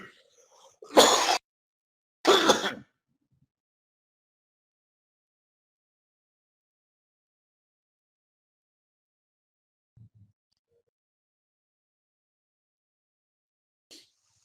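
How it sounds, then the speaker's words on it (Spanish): A person coughs or sneezes twice in quick succession, loud and close, in a quiet room during an online class, followed by long silence and a couple of faint small noises. "estuve tosiendo, por eso no les hablaba."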